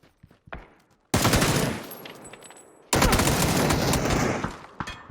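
Gunfire in PUBG: a few faint scattered shots, then two long loud bursts of rapid automatic fire close by, separated by a brief gap.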